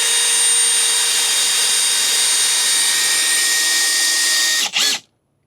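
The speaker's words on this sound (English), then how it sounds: "If you're trying to drive a lag like this and you want to be quiet, might I suggest trying out a drill." A cordless drill drives a lag screw into wood, a loud steady high-pitched whine held for several seconds before briefly dipping, surging once more and stopping abruptly.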